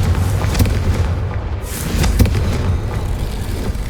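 The Confringo spell in Hogwarts Legacy goes off in a burst of booming blasts, with a sharp crackling impact near the middle and rumbling explosive noise before and after it.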